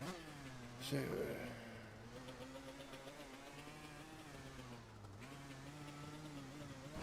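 A motocross bike engine in the MX Bikes video game drones steadily at a high pitch, with a brief burst of noise early on and a slight dip in pitch partway through. The engine keeps going with no break.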